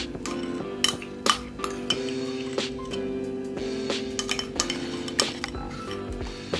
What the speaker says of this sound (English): we'll just mix our ketchup and our mayonnaise together